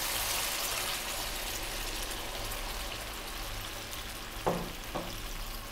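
Tuna steaks frying in oil with onion as sauce is added, a dense, steady hiss of sizzling close up, with a couple of short louder bursts near the end, no voices.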